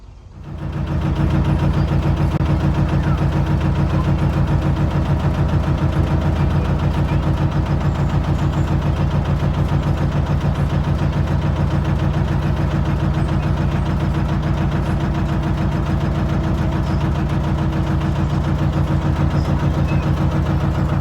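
A narrowboat engine chugs steadily at close range, a constant low throbbing drone that starts up and runs unchanged throughout.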